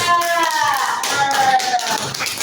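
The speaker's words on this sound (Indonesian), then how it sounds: "Beri tepuk tangan kelompok 3." Classroom applause for a student group: a short burst of scattered hand claps mixed with children's voices, close and fairly loud.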